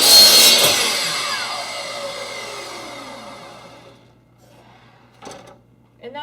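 A miter saw cuts through clamped wood: a loud whine and bite at the start that winds down over several seconds, followed by a few short clunks and clicks.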